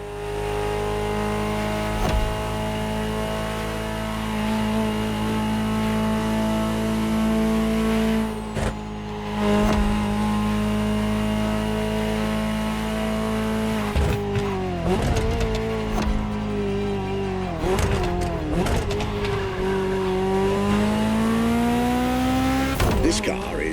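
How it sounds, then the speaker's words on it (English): A Ferrari 288 GTO in the video game The Crew Motorfest runs steadily with a sustained engine drone, shifting pitch through gear changes and revs from around the midpoint onward, loud and continuous throughout. "just enjoy the collector's piece that is the Gran Turismo Omologato"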